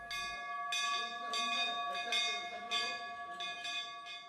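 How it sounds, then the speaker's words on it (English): A Shiva temple bell in Madhya Pradesh, fitted with a sensor, rings in a steady series of about six strikes, each leaving a bright, sustained metallic tone that overlaps the next. "the Shiva temple has become the only temple in Madhya Pradesh, perhaps in the country, to have a bell fitted with sensor."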